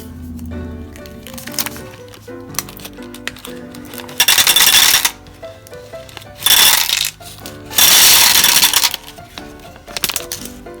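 A pack of M&M candies is torn open and the pieces pour and rattle, loud close crinkling bursts and clattering candy spills separated by quieter handling sounds.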